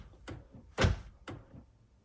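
Three dull mechanical thunks from a faulty rear central locking door actuator on a Kia Venga, the middle one loudest, spaced about half a second apart in a quiet setting.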